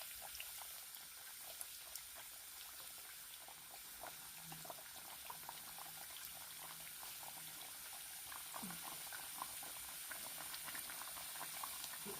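Badam puri frying in hot oil give a faint, steady bubbling and crackling hiss with tiny scattered pops throughout, and no voices.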